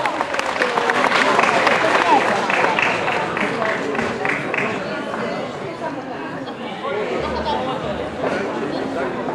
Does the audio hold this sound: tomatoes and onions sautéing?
no